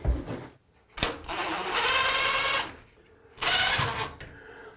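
Screws are driven out of the trim on a shower glass door, with two close, loud bursts of motorized whirring separated by short pauses and light handling noise.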